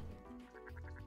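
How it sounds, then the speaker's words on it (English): Repeated duck quacks from The Coin Game, a quick series of about five short, evenly spaced honking calls over a steady, low game hum, close and moderately loud with no talking. "His name is Angel Duck"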